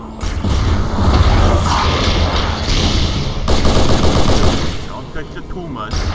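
Rapid automatic gunfire from Halo SPV3 keeps up a loud, dense chatter with booming hits and mechanical clatter, and a voice talks over it in places.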